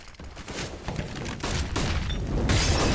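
AK rifle fire on the Dust2 map in a Counter-Strike match, rapid booming shots building in loudness over a few seconds, with game ambience underneath and no voices.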